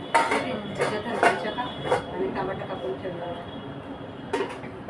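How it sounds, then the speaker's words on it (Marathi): A metal lid set onto a cooking pan makes a few sharp clanks and clinks in a home kitchen, near and distinct, while people talk over the clatter. "आता ह्याच्यावर झाकण ठेवा"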